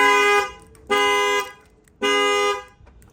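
A C7 Corvette's aftermarket shock-sensor alarm goes off after a tire is struck, sounding as three loud, steady horn blasts, each about half a second long with short gaps between.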